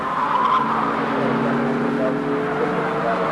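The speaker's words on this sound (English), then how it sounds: "Colin Bond pilots a careful course around the final lap, taking no chances" A race car driven by Colin Bond rounds the final lap of a 500-mile endurance event, its engine droning steadily and fairly close with a faint tire squeal, heard alone for a few seconds.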